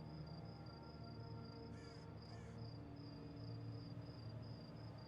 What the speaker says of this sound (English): All right, I hear crickets.